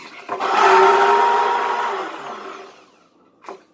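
A blender whirs loudly with water sloshing inside while being cleaned, rising quickly, holding, then winding down to quiet, ending with a small knock.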